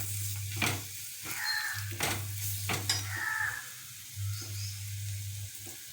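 Chopped tomato, green chili and curry leaves sizzle softly in a pan, broken by a few scraping stirs of a spoon, close and steady with a low hum underneath.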